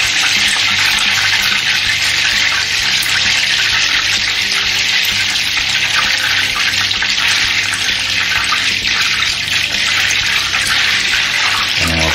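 Veal escalopes frying in hot oil and butter give a loud, steady, close broadband sizzle that holds without a break, with no voices over it.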